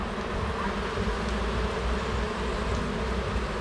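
Dense, steady buzzing of many honeybees crowded together in a hive during a hive inspection, a close, continuous drone with no pauses.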